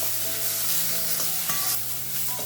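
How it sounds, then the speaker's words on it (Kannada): Tomatoes and curry leaves fry in a pan of oil, giving a steady, close sizzle with stirring scrapes throughout and no talking. "ಟೊಮೆಟೊನು ಸಾಫ್ಟ್ ಆಗೋ ತನಕ ಇಲ್ಲಿ ನಾವು ಇದನ್ನು ಫ್ರೈ ಮಾಡ್ಕೋಬೇಕು"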